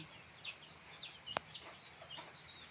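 Chickens being fed, giving faint, scattered clucks at a distance over a quiet outdoor background, with one sharp click partway through.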